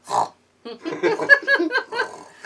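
A voice imitates a pregnant woman's snoring with a short snort, then a run of rough, gurgling snorts and grunts, close and fairly loud.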